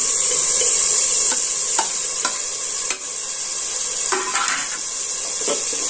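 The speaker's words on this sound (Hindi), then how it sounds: "तो अब इसमें हम डालते हैं जी चिकन" Chicken hitting a hot pan, with a loud, steady sizzle and frying hiss and occasional clanks and scrapes of a utensil stirring against the metal, close and continuous.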